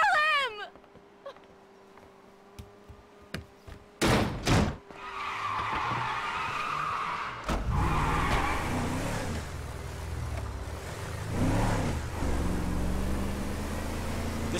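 Truck driven in the video game GTA 5, an engine rumble with skids and revving bursts, loud and continuous, with sharp impact-like bangs around the middle.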